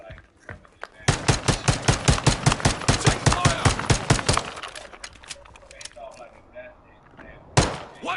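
Rapid automatic gunfire in Call of Duty Warzone 2 rattles out in a long, loud, evenly spaced burst for about three seconds, then trails off into echoing quiet before a single sharp shot or slam near the end.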